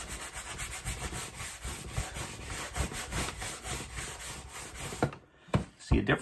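Shoe cleaner film is rubbed into a shoe with steady, close, rhythmic scrubbing strokes that run continuously, then pause briefly before a few louder rubs resume, with no talking over it.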